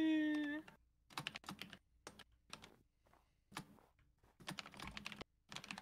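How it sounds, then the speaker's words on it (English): Quiet, close ASMR-style typing on a computer keyboard comes in irregular bursts of crisp key clicks separated by short pauses. "Now you can hear my ASMR typing skills."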